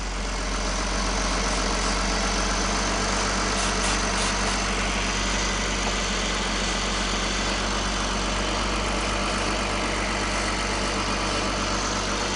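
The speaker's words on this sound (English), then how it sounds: "I'm not hearing a substantial change in the engine speed" Engine idling steadily at a constant pitch while carb cleaner is sprayed around a suspected vacuum leak, a continuous close hum with no noticeable change in speed throughout.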